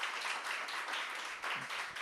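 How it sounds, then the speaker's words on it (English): An audience at a tech talk applauds, a thick, even patter of many hands clapping that holds steady for a couple of seconds with a slight dip near the end. "give me a round of applause for this decision"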